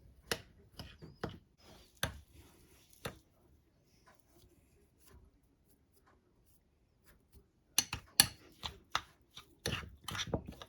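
Sourdough discard dough for apple pull-apart bread is mixed by hand in bursts of close, sharp scraping and slapping, with a quiet pause in the middle.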